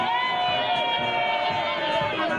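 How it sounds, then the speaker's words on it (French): A dense crowd in Lukula, Congo Central, greets its elected deputy with loud, continuous cheering and high shouts and whoops, sustained at even volume, close and enveloping. "C'est un banc de foule qui est venu accueillir l'élu de la Lukula dans le Congo central."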